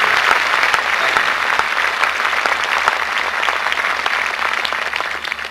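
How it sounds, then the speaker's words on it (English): Audience applauding for state representatives and senators at a Sun City 30th anniversary gathering, steady dense clapping from a large crowd held throughout without a break. "nice round of applause for our representatives and our senators."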